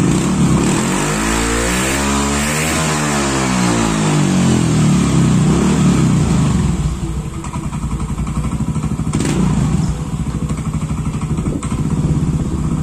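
Yamaha Xeon GT scooter fitted with a VND exhaust revs up and down loudly close by, its engine note sweeping through pitch before settling into a rough, throbbing idle with occasional blips.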